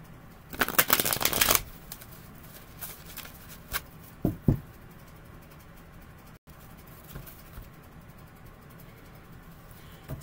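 A well-worn tarot deck riffles in a quick, papery burst, followed by a few soft taps and quiet handling noises.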